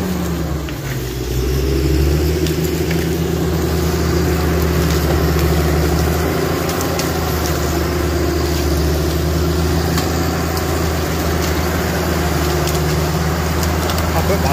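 A logging machine winches a log up against its butt plate, making a steady, loud engine drone with a rough, grinding drag layered over it that runs unbroken throughout.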